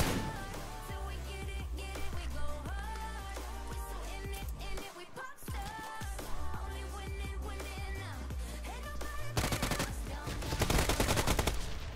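Dense, loud automatic gunfire from the mobile battle royale game BGMI, with rapid bursts and single shots layered over game sounds and music, briefly pausing midway before a final intense volley.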